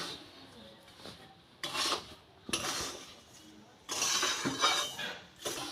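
A spatula scrapes and stirs fried semolina mixed with powdered sugar in a pan for semolina laddu, making repeated gritty rasping strokes with light metallic clinks, close and moderately loud, with no voices.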